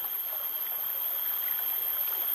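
Steady broadband rush of a flowing river stream, a continuous, even water noise with no talk, filling the whole short stretch at a moderate, close level.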